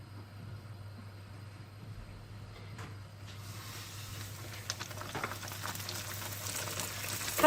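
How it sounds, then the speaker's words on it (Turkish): Quiet, steady crackle of balloon pişi dough frying in oil, growing busier and a little louder toward the end. "Diğerlerini kızartmaya devam edelim."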